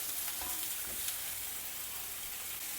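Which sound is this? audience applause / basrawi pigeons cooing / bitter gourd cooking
bitter gourd cooking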